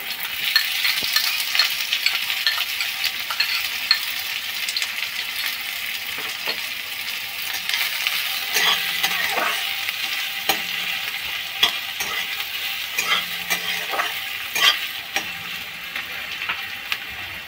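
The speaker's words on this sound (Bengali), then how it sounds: "একটু নুন দিয়ে দিলাম, তাহলে পেঁয়াজটা তাড়াতাড়ি ভাজা হয়ে যাবে।" Onion frying in mustard oil in a pan, a steady bright sizzle with frequent light clinks and scrapes of a stirring spoon, close and continuous, with no talking.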